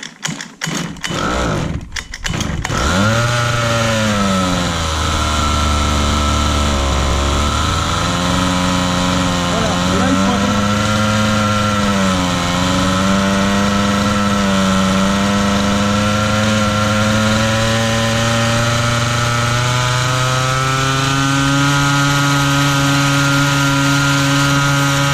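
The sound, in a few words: petrol engine of a 1/5 scale RC buggy restarted and running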